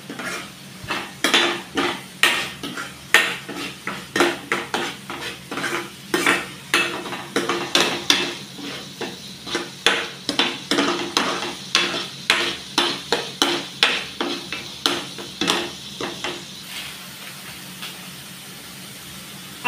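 Butter chicken masala with salt and chili powder is stirred in a pan, a rapid, regular series of spoon scrapes and clinks against metal over a low sizzle, continuing steadily throughout.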